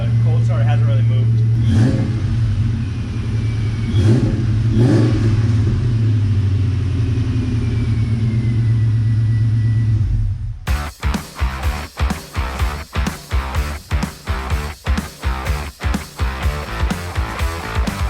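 A Ford Mustang GT with a loud aftermarket exhaust and an X-pipe, cold-started in freezing weather, idles with a heavy low rumble under talk, then revs in a rapid series of sharp, loud throttle blips.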